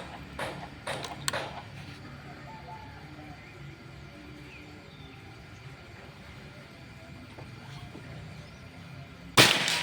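A Predator Pajero Gen 6 air gun fires one sharp, loud crack near the end, after a long quiet stretch opened by a few light mechanical clicks.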